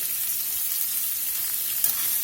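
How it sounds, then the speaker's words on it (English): Sliced onion hits hot high smoke point cooking oil, producing a steady, bright, close sizzle throughout with one brief clink near the end. "Put the sliced onion in"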